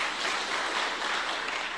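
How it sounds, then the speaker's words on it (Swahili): Sustained crowd applause for a member of parliament at a church gathering in Machakos, a dense, even roar of many hands clapping throughout. "mpigeni makofi"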